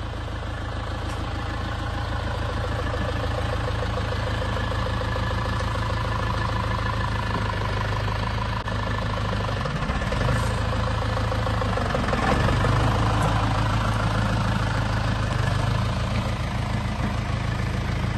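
A tractor engine idles on a kiwifruit orchard in New Zealand, a steady low rumbling drone that stays close and constant for the whole stretch, with no talking over it.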